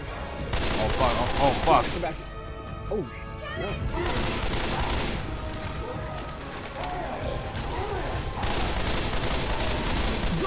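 Gunfire aimed at tanks in the video game Left 4 Dead 2, loud rapid bursts and crashes that come in waves with a short lull, while players shout and talk over the chaos.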